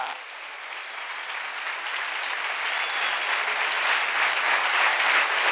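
A church congregation claps together at a Wednesday worship service, dense applause from many people that builds gradually in loudness and carries on steadily, with no voices standing out above it.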